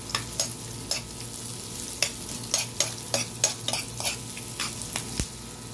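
Squid adobo cooks in a pan with a steady sizzle, broken by a run of quick metal utensil clicks and scrapes as it is stirred, with no one speaking.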